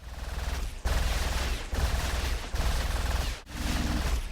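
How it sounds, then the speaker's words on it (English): A video game build fires a machine gun made with tone generators and horns: four dense rapid-fire bursts in a row, each sustained and loud, separated by very short gaps. "Using tone generators and the horns can make a decently convincing machine gun noise."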